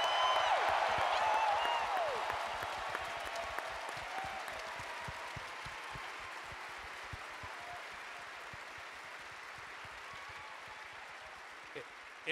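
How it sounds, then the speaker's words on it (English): Applause and cheering from a large convention crowd at a Star Wars Celebration panel in Chicago, loud at first with a whistle, then easing into steadier, softer clapping that gradually thins out. "can we get a big applause for my mentor, Mr. Peter Mayhew, at this point?"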